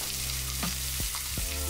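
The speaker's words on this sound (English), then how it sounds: "I'm gonna go ahead and put the finishing touches on our onions here. I'm gonna add a little bit of butter." Onions sizzle in butter on a Le Creuset double burner grill, a brief, steady crackling hiss heard close with a couple of faint scraping touches.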